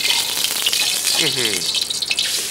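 A ball of food deep-fries in hot oil in a kitchen, giving a dense, continuous sizzle and bubbling hiss, loud and close, while voices talk faintly in the background.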